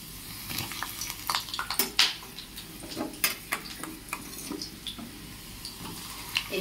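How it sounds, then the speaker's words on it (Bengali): Potato pieces fry in a pan over a low flame, with soft sizzling under sharp metallic clinks and scrapes of a spatula stirring against the pan. "এইভাবে সমস্ত আলুগুলো ছেড়ে ভালো করে ভেজে নেব।"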